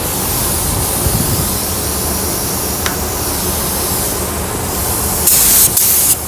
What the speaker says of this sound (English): you can kind of spray it aquí to see where your fan is